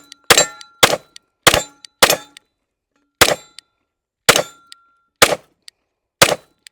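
Pistol rounds ring off steel targets at a shooting range, eight sharp metallic clangs in an uneven rhythm, loud and close with nothing else heard between them.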